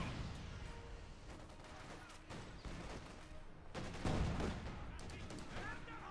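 Assault gun barrage in the Company of Heroes 2 strategy game: dense, continuous rolling gunfire and artillery booms layered over battle noise, with a heavier blast swelling near the end.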